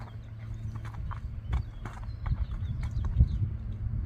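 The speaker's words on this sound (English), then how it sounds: "Here comes Bandit walking down the driveway" A three-year-old gray Tennessee Walking horse's hooves clip-clop at a slow, uneven walking pace on a hard driveway, fairly close, with a low rumble in the background.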